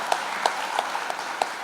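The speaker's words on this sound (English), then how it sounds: "So I think we need to give them a big round of applause" A few hands clap at a steady rhythm of about three claps per second during a conference session, faint and thin rather than a full ovation.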